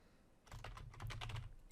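Keys clatter rapidly on a computer keyboard as a scope name is typed into a Windows Server DHCP setup wizard, a close, steady burst of clicks with no talking.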